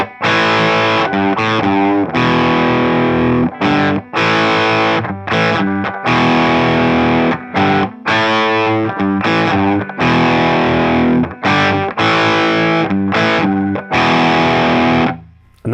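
Distorted electric guitar plays a song's verse riff alone, choppy chord stabs separated by sharp muted gaps in a driving rock rhythm.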